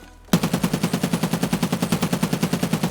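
A SCAR-L rifle fires a sustained full-auto burst from a crouched stance in Escape From Tarkov, roughly ten sharp shots per second in an even, rapid rhythm, loud and close after a brief quiet start, with no speech.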